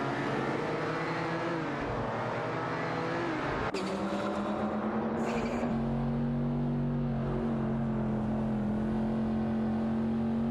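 Lamborghini Countach LP5000 and Ferrari 512 race cars in a video game, engines droning steadily at high revs with a sharp shift in pitch partway through as one car closes on and passes the other, loud and continuous with no talk.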